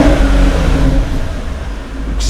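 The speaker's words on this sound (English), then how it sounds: "So if you blip the throttle" Car engine revs as the throttle is blipped, giving a loud rising roar that settles back toward idle within a couple of seconds, close and without speech.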